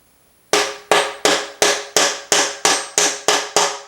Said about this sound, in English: it's going to allow us to tap that shaft down through the bottom of the wash plate